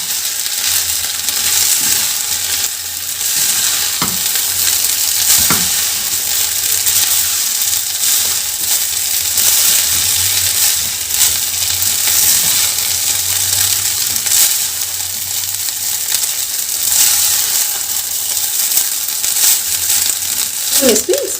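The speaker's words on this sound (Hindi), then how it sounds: "बस इन सॉस के साथ जो है चावल को मिक्स कर लेना है। देखिए कितना अच्छा फ्राई हुआ है चावल।" Vegetable fried rice is stirred and tossed with sauces in a hot pan, giving a steady, loud sizzle with scraping and clinking of the spatula throughout.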